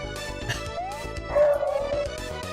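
A dog yips, whimpers and gives short bow-wow barks near a door, a loud, uneven run of calls with one sustained whine in the middle.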